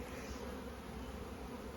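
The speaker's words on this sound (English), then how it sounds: "Got a blooming bee inside my suit." A honeybee trapped inside a beekeeping suit during a hive inspection buzzes continuously and close, a steady droning hum with no pauses and no talk.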